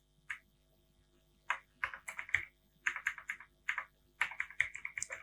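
Details are typed into an insurance policy form on a computer keyboard: quick clusters of crisp, close keystrokes in several short bursts, separated by brief pauses, with no talking.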